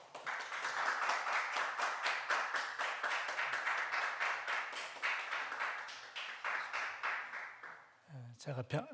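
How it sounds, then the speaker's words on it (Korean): A lecture audience claps in a rapid, even rhythm to welcome a professor. The applause holds steady for about eight seconds, then fades as a voice begins speaking. "뜨거운 박수로 환영해 주시면 고맙겠습니다."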